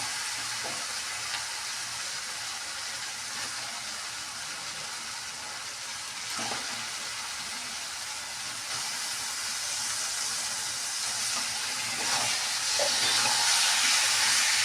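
Chicken pieces hit a pan over a coal fire and sizzle in a steady, loud hiss that holds for the whole stretch, with faint stirring knocks now and then.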